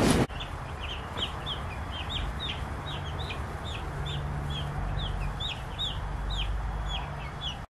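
Freedom Ranger meat chicks in a brooder give a steady stream of short, high peeps and chirps over a low constant hum, close and moderately loud throughout.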